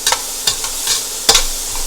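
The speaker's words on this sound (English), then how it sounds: "Start a cup of onion. Give that a stir around." Chopped onion frying in a pan for chicken fried rice, with a steady sizzle broken by a few sharp scraping stirs of a utensil, close and fairly loud, no voices.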